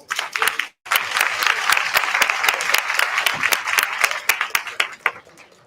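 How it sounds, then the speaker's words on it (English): A live crowd at a bodybuilding Olympia check-in event breaks into applause, sharp distinct claps close by over a dense clapping bed, briefly cutting out near the start before resuming and tapering at the end. "Let's give each other a round of applause."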